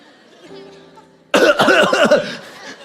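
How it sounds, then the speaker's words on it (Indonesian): A sudden burst of loud, harsh coughing after a quieter stretch with faint voices, several rough hacks running together up close. "Masih batuk terus"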